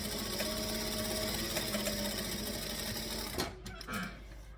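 A sewing machine runs in a steady, close, continuous rattling whir while stitching, then stops abruptly near the end, leaving a few brief clicks and handling noises.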